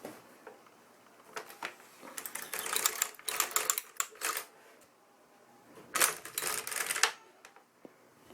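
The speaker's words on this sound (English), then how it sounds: "we can start knitting the first row" LK100 knitting machine carriage sliding across the needle bed to knit a first row, giving clusters of rapid mechanical clicking and rattling in two main passes, with quieter ticks and pauses between them.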